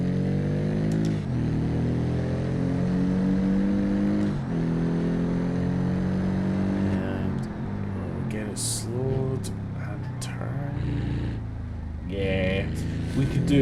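A vintage race car in BeamNG launching hard and accelerating, a loud sustained engine whine rising in pitch through several gear changes, with someone talking over it.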